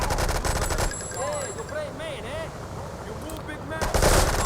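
Rapid bursts of gunfire in GTA 3 rattle in quick succession, with a voice talking in the background.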